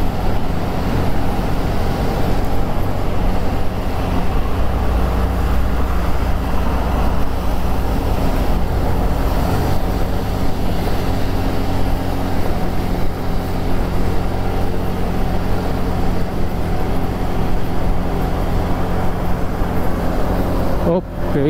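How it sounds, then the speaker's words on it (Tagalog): Motorcycle riding over an uneven cement road, a steady close engine drone with road rumble throughout, bumpy but continuous, with a rider talking over it at times. "Masyadong malikot ang motor."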